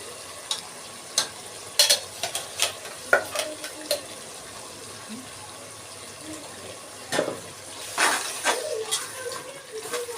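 Ginger garlic paste frying in oil with onion and tomato for chicken biryani, a soft sizzle under intermittent spatula scrapes and clacks against the pot, close by.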